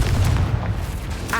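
A Confringo fire spell bursts in Hogwarts Legacy, a short, heavy booming blast with a deep rumbling body over about a second.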